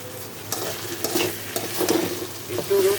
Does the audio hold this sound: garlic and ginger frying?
yes